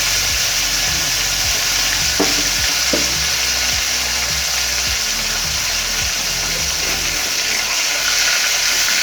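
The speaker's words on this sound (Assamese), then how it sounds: "মাছখিনি মোৰ ধুনীয়াকৈ ভজা হৈ গৈছে" Snakehead fish fries in hot oil in a wok with a steady, loud sizzle, joined by occasional dull low thumps underneath and no voices.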